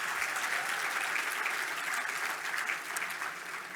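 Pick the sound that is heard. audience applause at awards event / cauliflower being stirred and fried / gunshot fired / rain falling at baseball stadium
audience applause at awards event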